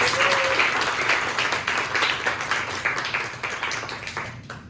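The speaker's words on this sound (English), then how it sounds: "Please give them a round of applause." Audience applause at a community conversation following a theatre production, a dense, steady wash of many hands clapping close by, gradually thinning toward the end.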